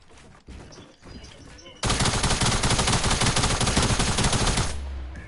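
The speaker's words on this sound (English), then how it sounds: "Who's shooting me down?" Video game gunfire erupts into a loud, continuous rapid-fire burst lasting about three seconds before cutting off, after a quieter stretch of background game sound.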